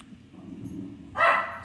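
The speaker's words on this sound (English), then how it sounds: "that's my dog" A dog gives a single loud, sharp bark near the end, after a stretch of quiet, low background sound.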